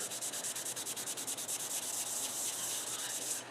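Scotch-Brite pad scrubbing a stain on a wooden surface with liquid wax cleaner, fast rhythmic back-and-forth rubbing strokes, close and steady, with no talking.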